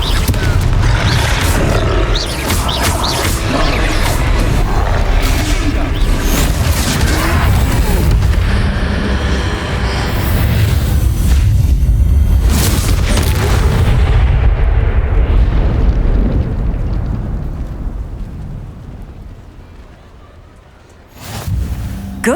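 A fire spell's explosion in the Hogwarts Legacy game, cast during a troll fight: a loud, sustained roar of booming blasts and rumble that gradually fades toward the end, with a final sharp burst.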